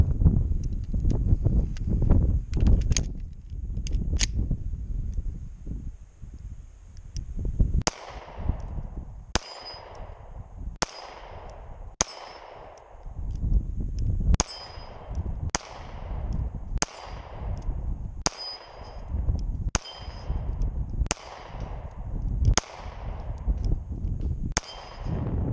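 A Taurus PT111 G2 9mm pistol fires a rapid string of about a dozen loud, sharp shots at a steady rhythm outdoors, following a few earlier scattered shots and handling noises.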